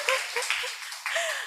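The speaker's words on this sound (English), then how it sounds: "Jadi please applause dulu buat Professor Rossi" Scattered clapping from a lecture audience at a musculoskeletal radiology guest lecture, a few separate bursts of hands with some tonal room sound between them, fairly close and without speech.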